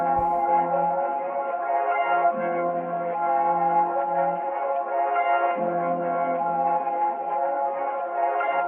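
Sampled song melody for a drill beat, filtered by EQ to sound cleaner and tighter, plays alone as a steady layered tone with a low note shifting in and out, top end trimmed away.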